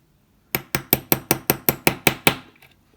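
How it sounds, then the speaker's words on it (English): Roughly ten light, evenly paced metallic taps ring out as a pin is tapped to drive out the retaining pin of a Citizen Skyhawk A-T titanium watch strap; they are close, crisp and bright, with brief decay and silence around them. "I can just get my pin, the pin to push the retaining pin through, and tap it gently,"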